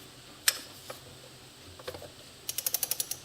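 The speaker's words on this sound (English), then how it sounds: "My torque wrench, I'll switch to a bigger torque wrench now." Torque wrench ratcheting on Honda SL125 engine bolts, a few isolated clicks followed by a quick run of about eight evenly spaced ratchet clicks, close and fairly quiet.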